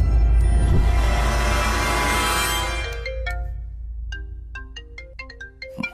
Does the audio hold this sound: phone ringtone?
yes